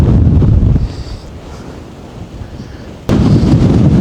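Strong gusting wind buffeting the microphone on an English hillside, loud roaring bursts at the start and end with a quieter lull in between, no talk.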